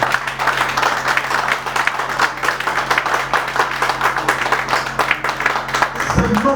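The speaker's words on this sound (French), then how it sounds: "je vous demande d'applaudir Simon Kimbangu" An audience at a political debate claps and applauds together, a loud, dense and continuous burst of applause that holds steady before cutting off near the end.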